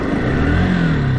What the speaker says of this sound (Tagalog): Kailangan na talaga ito pa-tune up ng motor na to.